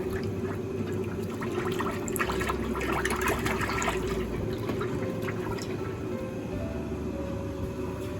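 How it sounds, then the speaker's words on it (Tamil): Sunflower oil is poured into a frying pan, making a continuous, steady liquid stream with soft trickling and dripping that stays at an even level throughout, with no one talking. "நாங்கள் எண்ணெயை ஊற்ற போகிறோம்."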